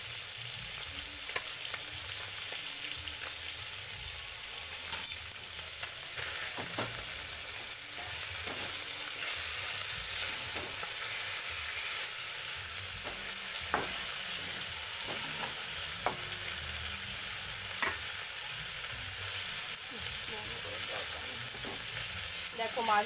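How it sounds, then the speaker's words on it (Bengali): Bhola fish fries in a pan with a steady, bright sizzle that runs throughout, punctuated by occasional clicks and taps of stirring. "দেখো মাছ ভাজা আমার হয়েই গেছে।"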